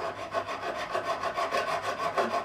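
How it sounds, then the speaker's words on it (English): A coarse straight file rasps back and forth in a guitar nut slot on an Ibanez Roadstar II RG200, close and rhythmic, about a dozen even strokes in steady succession. "So we're just going to remove material. Same as before, same trusty straight file."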